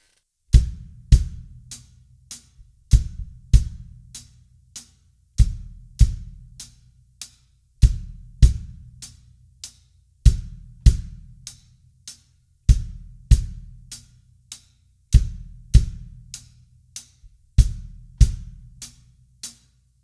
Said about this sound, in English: So with the bass drum and the hi-hat, that would sound like this.